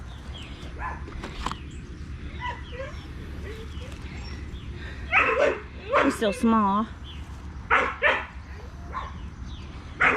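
A neighbor's dog barks in a backyard garden, several sharp barks and yips at moderate distance, interleaved with a nearby person speaking.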